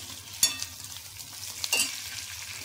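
Spices being warmed in a pan with browned onion and chopped tomato for chicken tikka masala, a soft sizzle under two sharp spoon scrapes and stirring clinks, close and fairly quiet.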